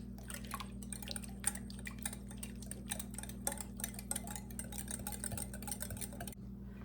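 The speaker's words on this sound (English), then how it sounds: "So I'm going to whisk this all together." Dry scone ingredients with fresh orange zest being whisked in a bowl, a quick steady run of light ticking, scraping strokes over a constant low background hum, with no voices.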